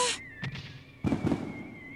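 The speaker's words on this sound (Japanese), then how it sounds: "どう、花火は 素敵ね。" Fireworks go off in the video game True Love Story 2: a soft burst, then a louder double boom, over a steady held tone of background music.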